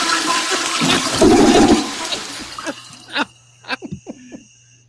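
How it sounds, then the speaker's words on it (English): A toilet flush sound effect plays loud and close, a rushing gush of water that drains away into scattered gurgles and short splashy bursts at the end. "And now Lewis is flushing, says Gabriel."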